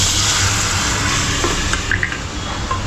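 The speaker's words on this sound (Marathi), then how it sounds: "डाळीला फोडणी" Hot tempering (phodni) hits cooked dal in a home kitchen, giving a loud, steady hiss and sizzle that fills the short stretch with brief stirring clinks near the end.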